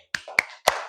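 Children in a classroom clap together in a teacher-led rhythm: three sharp, evenly spaced claps, close and fairly loud, with a brief ringing tail after each.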